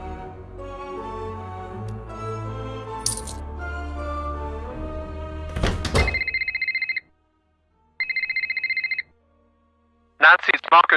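A telephone rings in the Nancy Drew video game, two electronic trilling bursts with a pause between them, following a stretch of music, then a voice begins speaking.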